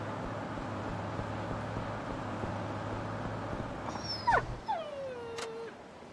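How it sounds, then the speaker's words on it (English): A dog whimpers in the video game Yakuza 5, a few short high whines and a falling yelp arriving after a steady low hum of game ambience, fairly faint. "Is that a dog?"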